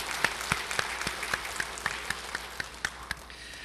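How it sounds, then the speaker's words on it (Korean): A church congregation applauds the elders during a Sunday service, a sparse, quiet patter of distinct individual claps in an uneven rhythm, heard alone at a distance. "우리 장로님들 한번 박수하며 한번 격려 한번 하면 좋겠습니다."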